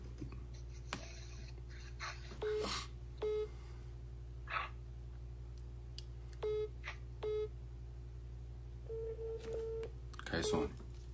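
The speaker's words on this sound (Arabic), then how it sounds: "بلا شي نعاود نتصل عليها" A telephone is dialed, with a handful of short tone beeps scattered over a low steady hum and faint voices in the background.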